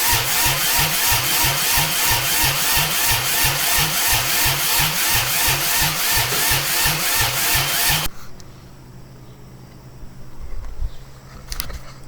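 A diesel lawnmower engine, straight piped with no muffler, fires up and runs with a loud, fast pulsing chug for about eight seconds, then cuts out, leaving faint background noise.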